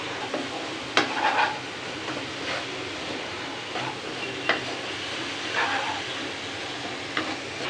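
A spoon stirs carrot and papaya halwa in a pan, giving faint, soft scraping with a few sharper knocks against the pan over a low, steady background hiss.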